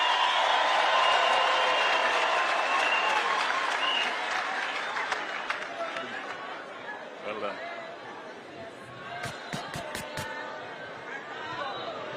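Loud crowd applause and cheering fill a political rally in Limuru, Kenya, sustained at first then thinning, with scattered claps, chatter and a few sharp cracks later on.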